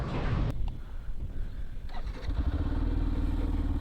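A Yamaha FZS V3 BS6 motorcycle engine starts with a sudden burst, then runs with a steady low putter that settles into a smooth, even idle.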